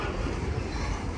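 A train rumbles past close by, a dense steady roar of wheels and carriages filling the short moment without any voices.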